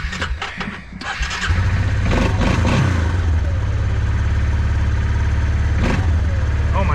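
Old International truck engine on a cold day with the choke on, cranking and catching with sputters, then settling into a loud rough rumbling run with a couple of revs, close by.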